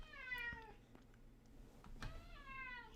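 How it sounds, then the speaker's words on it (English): A cat meows in the background of a home livestream: two drawn-out, whiny meows, one at the start and one at the end, with a soft thump between them and no voices. "My cat's in the background."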